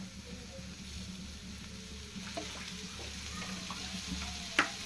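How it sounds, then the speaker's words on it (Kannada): Sliced bitter gourd frying in a little oil, a soft steady sizzle running throughout with a few light clicks of stirring, close and without any talk. "ಇದಕ್ಕೆ ಸ್ವಲ್ಪ ಎಣ್ಣೆ ಹಾಕಿ ಹುರ್ಕೊಳ್ಳೋಣ."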